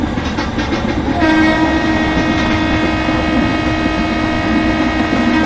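Kalka Mail electric locomotive in Indian Train Simulator pulling away at full throttle, a steady loud rumble with a rising motor whine and sustained tonal hum over continuous rail noise, no talk.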